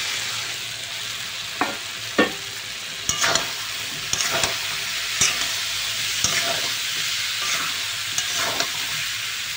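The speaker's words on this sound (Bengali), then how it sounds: "দেখো সয়াবিন করে আমি লাল লাল করে ভেজে নিচ্ছি, কষা নিচ্ছি ভালো করে।" Soybean chunks and potatoes frying in a pan, a steady broad sizzle broken by regular spatula scrapes and knocks every second or so, close and clear with no talking.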